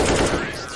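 Rapid burst of AK rifle fire in a Vietnamese-language video game match, loud and close, a dense automatic rattle that thins slightly toward the end.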